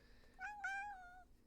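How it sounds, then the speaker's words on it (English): A pet cat meows twice in close succession, a short call followed by a longer drawn-out one, clear and near against a quiet room. "She's a good cat."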